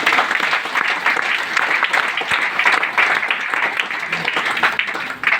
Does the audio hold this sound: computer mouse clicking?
no